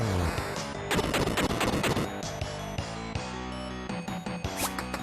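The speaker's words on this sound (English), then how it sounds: "switch to my bombs and use them" Bombs exploding during a battle in the SNES game Final Fantasy Mystic Quest, a dense run of sharp blasts and crackling hits over a continuous layer of game music, loud and busy for the whole stretch.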